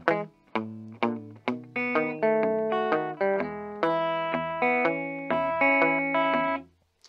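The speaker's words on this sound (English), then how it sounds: "And then the last row of finger picking sounds like this." Rockabilly Travis-style finger picking on an electric guitar in E: a steady run of crisp plucked notes and double stops with a low bass pulse underneath, up close, bright and slightly effected with chorus and a touch of drive.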